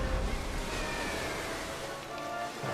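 Falling water in the Castle of Illusion Starring Mickey Mouse video game makes a constant, rushing, surf-like wash of noise. It stays fairly quiet and even from start to finish, with no voices.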